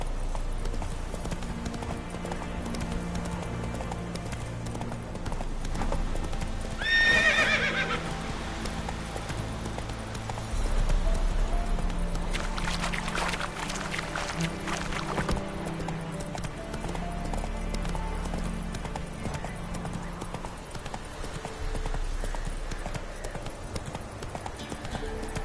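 Roach the horse galloping in The Witcher 3, a steady clip-clop of hooves with a neigh in the middle, all under background music and game sounds.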